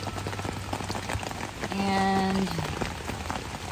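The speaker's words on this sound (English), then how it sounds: "Well, it's pouring rain, but it's not a total loss." Pouring rain drumming steadily on a tent on the Appalachian Trail, a dense continuous patter with a brief tonal sound in the middle and faint talk.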